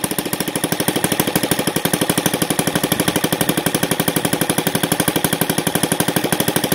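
NGH FG-38 model engine with ignition timing at 30 degrees BTDC, running in a rapid, evenly pulsed loud chatter with a steady rhythm, close up and alone.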